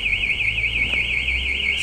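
A newly installed motorcycle alarm shrieks with a rapid, continuous rising-and-falling warble, close and prominent, with a faint thud near the end and no speech.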